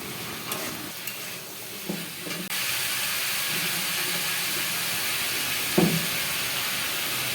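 Vegetables and cut pumpkin frying with spices in a pan while being stirred, a steady sizzle with scraping stirring strokes and occasional louder clatters, close and continuous.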